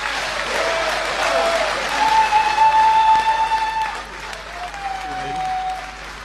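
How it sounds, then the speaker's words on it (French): Audience applause at the opening of the Cameroonian diaspora forum, a steady broadband clatter of many hands filling the hall, with a few tonal whistle-like lines and some voices mixed in. "qui a soulevé beaucoup d'applaudissements"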